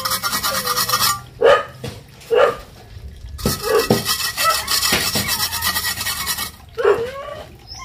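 Scraping moss off a cement wall at a house under construction, heard as repeated rough rasping strokes in short bursts, some louder and closer than others, with no talking.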